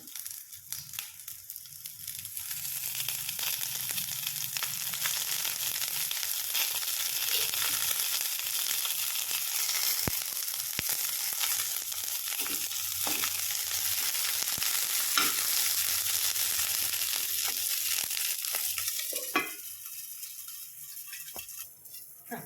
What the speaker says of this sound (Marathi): वांगी झाकण काढते थोडंसं तेल टाकायचं आपल्याला वरून